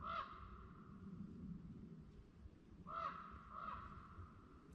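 During a Pennsylvania rifle-season hunt, a raven circling over the woods gives a croak, then two more in quick succession a few seconds later. The calls are fairly clear at mid distance over constant background noise.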